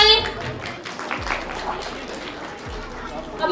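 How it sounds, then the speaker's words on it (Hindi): Audience at a Holi celebration gathering clapping, a steady patter of applause throughout, with a voice on a microphone and crowd chatter mixed in. "तालियां बजाएं।"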